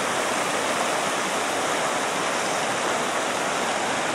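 Swollen creek after flooding at Bastrop, a loud steady rush of flowing water, dense and continuous throughout with no breaks.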